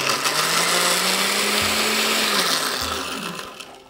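A kitchen blender whirs loudly as it blends eggs with whole tangerine segments for cake batter, its motor whining steadily, then shifting pitch and labouring twice before the sound tapers off near the end.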